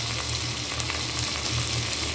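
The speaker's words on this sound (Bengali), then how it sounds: "আমার তেলটা গরম হয়ে গেছে, আমি পটলগুলো দিয়ে দিলাম তেলের ভিতরে।" Pointed gourd pieces dropped into hot oil sizzle loudly and steadily in a close pan, a dense unbroken frying hiss without any voices.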